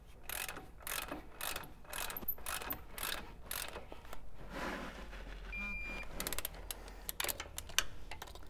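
Torque wrench ratcheting as caliper bolts on a 100 Series Land Cruiser are tightened, a rapid clicking in close bursts over a busy garage background with scattered metallic clanks.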